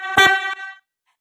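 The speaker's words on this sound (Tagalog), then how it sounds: "So, sound check natin itong piyaya horn." A single short blast from a PIAA car horn, loud and close, a bright harmonic honk lasting under a second before cutting to silence.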